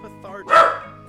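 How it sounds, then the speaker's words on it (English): A dog gives one loud, close bark, a short sharp burst amid game sounds with a voice just before it. "I'm so sorry about my dog."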